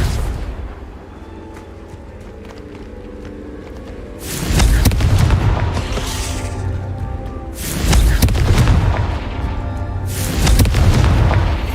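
Blasting-spell explosions in the Hogwarts Legacy video game: three heavy, booming blasts, each a deep roaring burst that rumbles on before the next, loud and close, after a quieter stretch of low game ambience.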